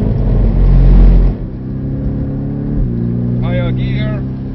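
Race car engine on a wet Nürburgring lap, loud and droning, swelling to a peak before easing into a lower steady tone as the car changes into a higher gear, with people talking over it.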